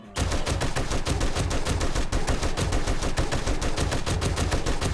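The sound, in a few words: M60 machine gun firing in the video game 7 Days to Die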